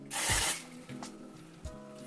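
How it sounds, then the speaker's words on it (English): A short, breathy hiss of an aerosol spray, followed by softer rustling and a couple of faint brushing sounds. "just spray like a really small amount all over my hair"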